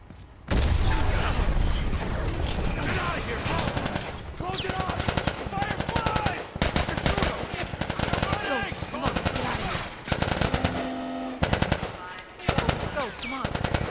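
Soldiers open up with heavy automatic gunfire in The Last of Us Part 2, loud repeated bursts and single shots clattering close together, with shouted voices mixed in.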